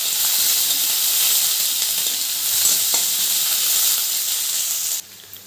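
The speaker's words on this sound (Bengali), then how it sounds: "পেঁয়াজ লাল লাল হয়ে গেছে ভাজা।" Chopped onion frying in mustard oil with cumin gives a steady, close, loud sizzle and hiss that runs without talk, then drops off sharply near the end.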